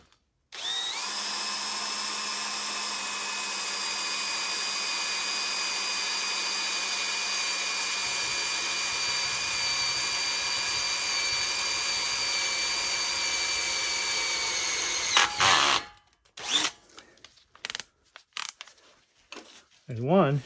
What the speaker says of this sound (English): We've selected a 3/16 drill.